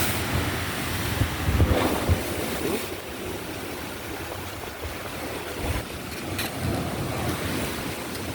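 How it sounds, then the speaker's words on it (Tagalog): Sea waves roll and crash against the shore during Typhoon Uwan in the Philippines, gusty wind buffeting the microphone, a continuous loud surf with occasional heavier breaks. "Ito na po ang dagat sa harapan namin."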